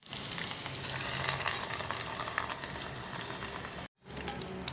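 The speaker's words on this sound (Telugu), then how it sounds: "ఆవాలు, పచ్చిపప్పు, సాయమినపప్పు, ఎండుమిర్చి ఇవన్నీ వేసుకొని ఫ్రై చేసుకోవాలి" Mustard seeds, dals and dry red chillies crackle and sizzle in hot oil for a tempering, a close busy frying hiss with sharp pops, briefly cut off near the end.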